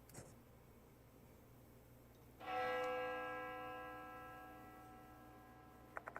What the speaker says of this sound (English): The sound of a bell echoes in my ears.